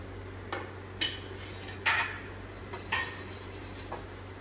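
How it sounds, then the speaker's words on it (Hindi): Spoon clinking and scraping in a bowl while spices (turmeric, red chilli, coriander powder) are stirred into curd, in brief irregular taps and scrapes over a quiet, steady background hum. "और इनको अच्छे से हम मिक्स कर लेंगे दही को"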